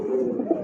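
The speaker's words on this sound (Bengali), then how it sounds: "দেখেন ডাকতেছে, সামনেটা হচ্ছে নর কবুতর" Male pigeon cooing close by, a short soft throaty coo with a couple of low pulses, alone and fairly quiet.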